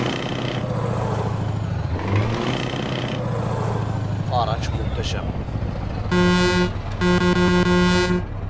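Engine rumble under talking, then two loud, sustained blasts of a deep Scania V8 truck horn close by near the end, in Euro Truck Simulator 2.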